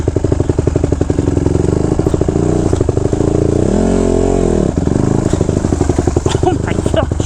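A 2014 Honda CRF 150R dirt bike engine roars loudly during a test ride, a dense, rapid pulsing buzz that rises and falls with the throttle, with a rider's voice over it at times.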